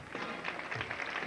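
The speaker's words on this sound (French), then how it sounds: "une bonne main d'applaudissement également à Disco Mobile Marc Bernard" Applause from the audience at a 1993 boutique fashion show in Georgesville, a steady, moderately distant wash of clapping filling the short moment without voices.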